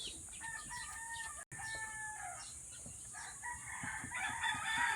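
Texas breed hens and roosters on a farm, clucking and crowing, with a rooster's drawn-out crow near the start and busy overlapping clucks throughout, at a moderate distance and fairly quiet.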